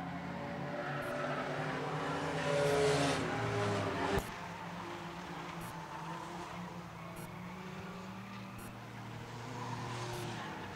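Race car in an enduro race coming onto the front stretch, a loud engine roar building then dropping sharply after a few seconds, followed by a fainter steady engine drone, no talk.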